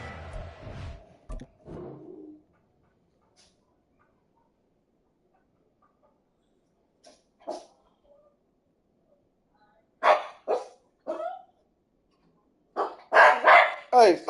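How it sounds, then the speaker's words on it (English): A dog barks in several separate bursts, sharp and close, with quiet gaps between and a voice speaking in places. "stop all that barking"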